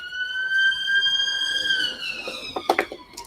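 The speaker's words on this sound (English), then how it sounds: "Sirens going by." A siren wails with a sustained tone that slowly falls in pitch as it moves away, followed by a few sharp clatters near the end.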